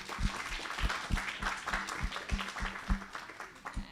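An audience at a temple gathering gives a round of applause for the temple management, dense steady clapping with a low rhythmic thump repeating under it.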